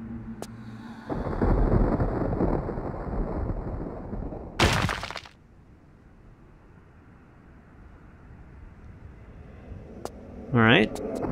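Thunder from lightning in the game Tomb Raider: The Last Revelation, a broad rumbling roll that swells early, then a sharp crack midway and a fading low rumble.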